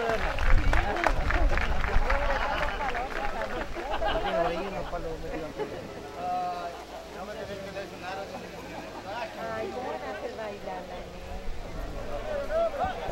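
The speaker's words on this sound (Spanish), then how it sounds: "Prendémosles un fuerte y coloroso aplauso a esta linda agrupación" Audience applauding a folk group at a championship series opening ceremony in Pichilemu, a scattered crowd clapping at moderate distance beneath an announcer's amplified voice, with some rhythmic clapping along.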